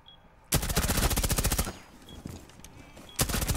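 Rapid automatic gunfire from Rainbow Six Siege, a loud sustained burst of evenly spaced shots followed by a quieter stretch of game noise, then a second loud burst starting near the end.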